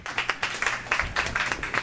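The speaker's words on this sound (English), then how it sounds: "Give yourselves a big hand just for showing up" A comedy-show audience claps together in a steady, dense round of applause, loud and close throughout, with no one speaking over it.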